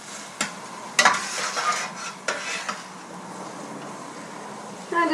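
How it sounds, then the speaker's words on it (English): Onions for French onion soup are stirred around a pot in a few irregular scraping strokes and light clinks over a faint sizzle, then a quieter stretch. "I just keep kind of stirring it around."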